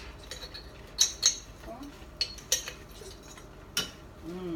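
Plant-based Kaiserschmarrn batter with applesauce, cinnamon and sugar being mixed in a bowl, heard as sparse sharp clinks of a utensil against the dish separated by quiet stirring, with a faint voice at the end.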